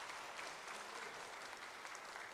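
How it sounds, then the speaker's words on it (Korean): Church congregation applauding the choir after a hymn at a Sunday service, a steady wash of hand claps filling the sanctuary at moderate, even volume with no speech over it. "큰 박수 한번 보내주시기 바랍니다"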